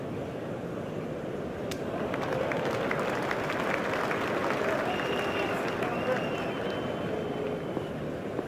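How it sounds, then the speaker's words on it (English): Steady crowd applause from the Australian crowd in the Cricket 07 video game, a dense continuous wash of clapping and cheering under a commentator's voice. "He takes the applause of the Australian crowd."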